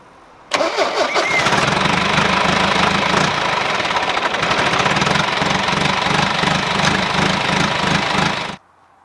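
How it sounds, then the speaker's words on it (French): A John Deere 2250 tractor engine cranks and fires up abruptly, then runs loud and steady at close range with a knocking diesel clatter for about eight seconds before cutting off. "je vais faire tourner un petit peu le tracteur, donc pour, comme je vous ai dit tout à l'heure, pour faire circuler l'huile"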